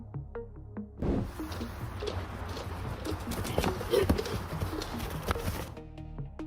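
Hooves of a large, one-tonne horse clip-clop at a steady walking pace, fairly close, over a soft outdoor background, with faint birds and occasional small knocks.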